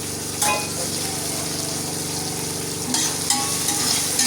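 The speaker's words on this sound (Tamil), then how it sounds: "பெரிய தக்காளி பழம் ஒன்று சேர்த்துக்கோங்க." A large chopped tomato sautéing in a pan for a beef curry, a steady sizzle with a few brief bursts of stirring, close by and without talk.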